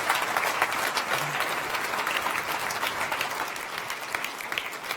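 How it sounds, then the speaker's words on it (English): Audience applause for science presenter Marty Jopson at an evening science-communication final, loud continuous clapping from a full hall that eases slightly toward the end. "can we please, again, give a bubbly hubbub of applause for Marty Jopson"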